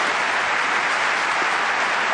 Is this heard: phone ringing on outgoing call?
no